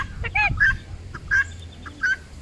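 A goose honks four times in short, nasal calls spaced irregularly, close by against a quiet background.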